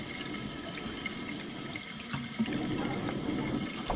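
Water rushes strongly through the rubber refill pipe inside a toilet tank during a flush valve repair, a steady close hiss and gurgle that holds constant for the whole stretch without any speech.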